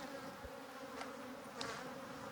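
Honey bees hum steadily while being scooped out of a water meter box during a hive relocation, a close continuous drone with a couple of brief louder passes.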